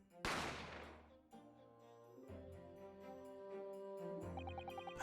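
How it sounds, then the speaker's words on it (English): A single sharp gunshot rings out in a detective video game, a loud crack that decays quickly, followed by sustained tonal music or game sound lasting several seconds. "I didn't have time to think about where the sound of the gunshot had come from."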